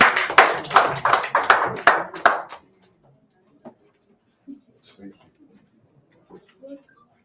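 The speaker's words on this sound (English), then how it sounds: "Please, another round of applause for him." Audience applause at a press briefing for a disability voting campaign, a short burst of rhythmic hand clapping that stops after a couple of seconds, leaving faint scattered taps and quiet room noise.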